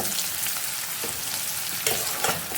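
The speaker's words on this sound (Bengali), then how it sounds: "এবার আমি বেরেস্তা ভাজার জন্য পেঁয়াজটা দিয়ে দেবো" Hot oil sizzling steadily and close by as sliced onions fry for biryani, a constant crackling hiss with a few brief louder bursts.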